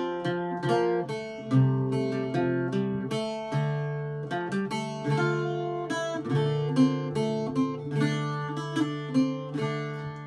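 The chorus section of The Foggy Dew on an Irish bouzouki: plucked, ringing doubled strings carrying a slow air over sustained drone notes, played alone and fairly loud.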